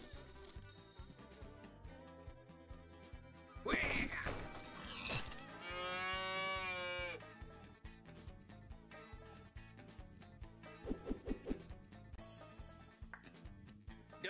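A cartoon cow in the video game Run Cow Run gives a long wavering moo in the middle of busy game music and effects, loud and close.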